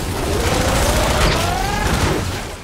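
A Shockwave grenade blast in Fortnite Save the World gives a loud, sustained burst of noise with a sweeping tone through it. No one talks over it.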